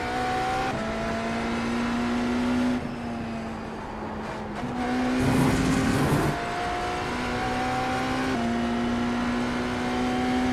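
A race car engine with a rattle, in the iRacing sim game, drones steadily close up, its pitch stepping through gear changes with a brief rougher burst midway, and no voices over it.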